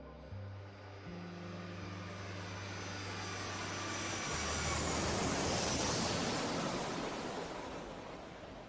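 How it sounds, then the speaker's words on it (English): The engines of an airliner in flight, Japan Airlines Flight 123, a Boeing 747, drone in a broad, steady roar that swells gradually toward the middle and holds. "And as the aircraft powers through the clouds,"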